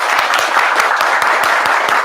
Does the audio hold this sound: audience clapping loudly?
yes